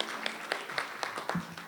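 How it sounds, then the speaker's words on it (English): Audience at a Lyttelton port rally against DP World privatisation clapping for a speaker, a brief, light patter of applause from a small indoor crowd. "Big round of applause."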